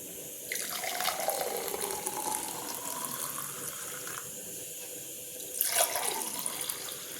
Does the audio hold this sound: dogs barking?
no